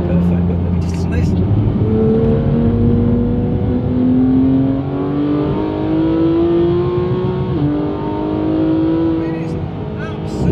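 A Porsche GT3 sports car engine revs hard and steadily with rising pitch sweeps as it shifts down through the gears on a country road drive, loud and continuous throughout.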